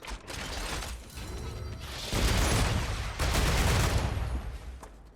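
Assault rifle fire in the Star Rupture video game: steady, loud bursts of rapid shots that swell midway, with mechanical clatter mixed in.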